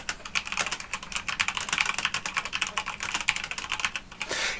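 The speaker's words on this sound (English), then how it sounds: "So let's type in something like" Rapid, steady keystrokes on a computer keyboard as a question is typed into a ChatGPT chat box, close and clear with no talking.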